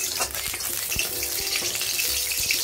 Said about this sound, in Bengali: আর এইদিকে কড়াইয়ের মধ্যে আমি তেল দিয়ে দিয়েছি